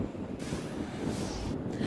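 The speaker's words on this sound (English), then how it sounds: "It was really, really windy this morning." Strong morning wind buffets a microphone near an oil well explosion site, a loud rough roar that gusts and surges, with no talking.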